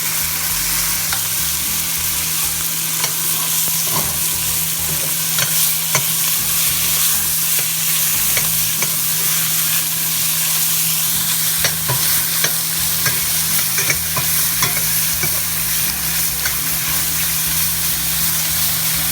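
Ground meat browns in a pan for green chile while a utensil stirs and spreads it, giving a loud continuous sizzle broken by frequent scraping clicks and taps, with a low steady hum beneath and no voices.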